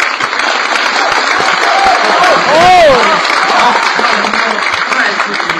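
An audience at a crosstalk comedy show gives loud, steady applause that fills the whole stretch, with a voice rising and falling over the clapping midway.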